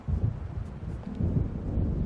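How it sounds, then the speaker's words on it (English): Deep rumbling thunder rolls from an approaching storm in the Alan Wake Remastered video game, low and heavy in uneven surges, with light rain-like hiss above and no speech. "It seems there's a storm coming."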